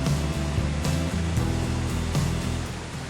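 Rainbow Falls waterfall in the Watkins Glen State Park gorge pours with a steady, dense rushing roar that fills the whole span evenly, broadband and continuous without pauses.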